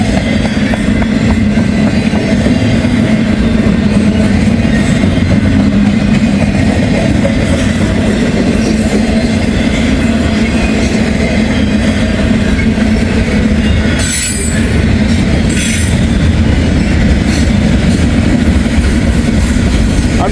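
A freight train hauled by heritage locomotives rolls past close by, a loud, continuous rumble with rail clatter and wheel squeal across the whole stretch, with no talk.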